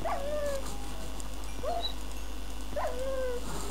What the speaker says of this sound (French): N'approchez pas, chien.